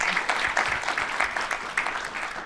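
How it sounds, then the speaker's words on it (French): Applause from the audience at a round-table discussion on aeronautical construction careers, a brief burst of scattered hand claps with distinct individual hits, fairly close and lively. "On peut applaudir Christine Ricouard."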